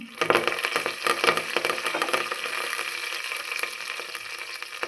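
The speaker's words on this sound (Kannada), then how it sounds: "ಸಾಸಿವೆ ಚಟಪಟ ಅಂತ ಸಿಡಿದ್ಮೇಲೆ ಕರಿಬೇವನ್ನು ಹಾಕ್ತಾಯಿದ್ದೀನಿ" Mustard seeds crackle and pop in hot oil with curry leaves tossed in, a loud, dense close spluttering sizzle that is busiest early and settles into a steady fry.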